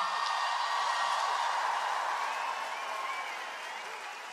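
A large festival crowd applauds and cheers for a guitarist during a pop concert at Rock Werchter, a dense continuous wash of clapping and crowd noise that gradually fades in the last second or two.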